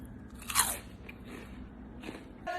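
Crunchy salted caramel corn bitten close to the mic, a few sharp, crisp crunches followed by softer chewing crackles in an otherwise quiet room.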